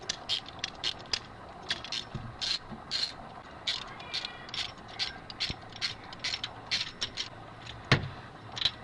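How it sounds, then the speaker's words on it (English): A hand ratchet wrench loosening an engine spark plug, giving rapid rhythmic clicking bursts of the pawl that come close and repeat steadily over a low background hum. "Okay, so you need to loosen that spark plug."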